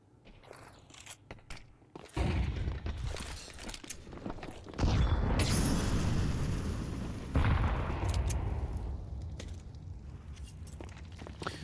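Two HE grenades burst in a Counter-Strike match, heavy booming blasts that each swell and then decay, amid footsteps and scattered gunfire in the game.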